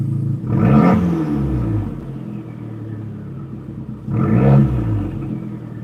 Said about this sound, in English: the turbo noise through that exhaust is amazing